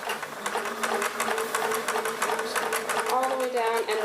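A sewing machine stitches a pillowcase seam with a rapid, steady mechanical patter running throughout, under a person talking.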